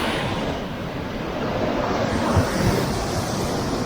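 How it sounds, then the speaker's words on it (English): Ocean waves surge and wash through a sea cave on Kauai's Napali Coast, a close, steady roar of churning water with wind rumbling over it. "give me a minute to just walk to see what water and waves are doing in that cave."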